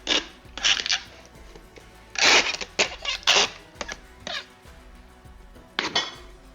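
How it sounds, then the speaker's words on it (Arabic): Several sharp ripping screeches of packing tape being pulled from a dispenser onto cardboard, in short irregular bursts with small thuds between. "هنشوف دلوقتي مع الكرتونه واحنا بنسلتبها."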